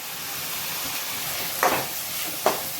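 Tomatoes and boiled jackfruit sauté in a pan with a steady, close sizzle, broken twice by louder hissing bursts as the mix is stirred.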